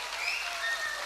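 Audience applause at a cultural anniversary celebration, a brief, fairly faint burst of clapping from a crowd.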